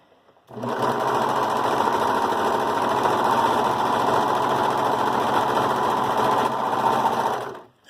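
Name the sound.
Brother 1634D serger sewing a dog sweater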